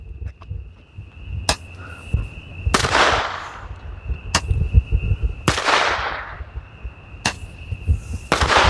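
Several sharp, sparse pops with hissing bursts fire at irregular intervals outdoors as Roman candle fireworks shoot, moderately distant, over a faint steady insect-like tone.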